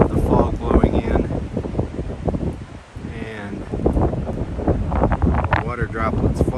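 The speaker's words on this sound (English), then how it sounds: "hopefully now this really shows just how windy it is and the fog blowing in" Strong wind buffets the microphone at Point Reyes Lighthouse, roaring and gusting constantly in thick fog, with a brief lull partway through.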